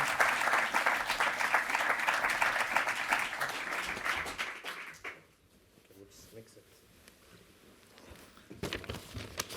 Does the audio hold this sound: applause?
yes